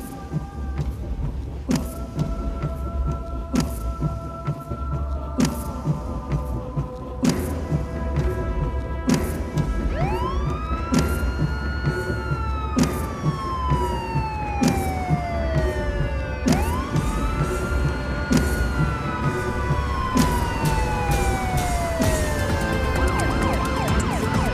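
An ambulance siren wails at a prison in a Turkish drama, its rising and falling sweeps entering partway through and repeating loudly over a busy background of clicks and rumble, with no talking.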